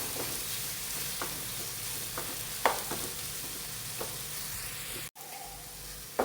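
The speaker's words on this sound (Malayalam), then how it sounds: "ഫ്രൈ ചെയ്തെടുക്കാം. നന്നായി ഒന്ന് ഇതിനെ മൊരിയിച്ചെടുക്കാം." Mackerel fry cooking in coconut oil in a pan makes a continuous close sizzle, with scattered small crackles and stirring scrapes, a brief dropout, and no voices.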